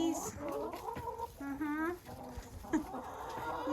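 Hens clucking in a sandy dust bath crate, short clucks and a rising squawk scattered over a few seconds, close by, mixed with someone talking over them.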